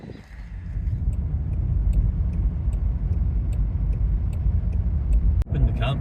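A vehicle towing a trailer pulls up outside, a steady low engine rumble holding throughout with faint ticking and a brief sharp clatter near the end.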